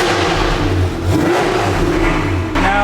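A Lamborghini Huracan with a 5.2 V10 and an FMU exhaust set to its silence mode revs up close, a loud throaty engine rising and falling in one continuous pull with no talking.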